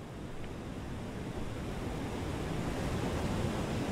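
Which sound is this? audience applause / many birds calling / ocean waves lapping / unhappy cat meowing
ocean waves lapping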